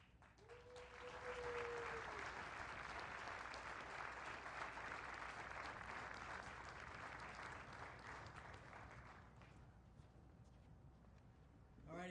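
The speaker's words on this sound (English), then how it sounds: "your cheer would have been a heck of a lot louder than that one was" An audience at an Army assumption of command ceremony applauds and cheers steadily for several seconds after a general is welcomed, a broad crowd sound that fades toward the end.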